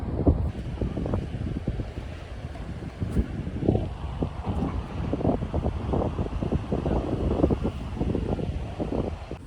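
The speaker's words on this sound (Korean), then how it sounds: "낮에도 이렇게 바람 부는데 저녁에는 엄청 불겠다" Strong wind buffets the microphone at a beach campsite in Taean during a rainy day, a steady rumbling roar with irregular gusts throughout and no speech.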